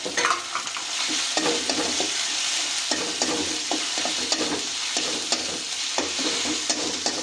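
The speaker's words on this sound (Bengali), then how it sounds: "এই পেঁয়াজটা দিয়েও খুব ভালো করে মশলাটাকে কষিয়ে নিচ্ছি আমরা" Grated onion and spice paste fry in hot oil for a rohu or kalbose fish curry, a steady close sizzle broken by frequent scraping stirs of a spatula against the pan, with no voices.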